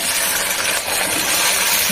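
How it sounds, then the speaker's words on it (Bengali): Okra goes into a hot pan of oil, setting off a dense, loud burst of sizzling hiss that holds steady for a couple of seconds with no voices. "এবারে ঢেঁড়সগুলোকে দিয়ে দিচ্ছি"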